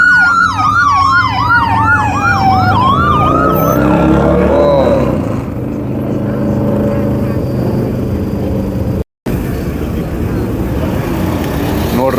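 Fire engine siren wailing loud and close on the Las Vegas Strip, its rising and falling tone sweeping repeatedly before fading into steady traffic and street noise.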